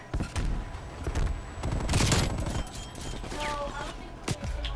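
Gunfire in Call of Duty: Black Ops Cold War, with several sharp nearby shots and bursts spread over a steady layer of game noise.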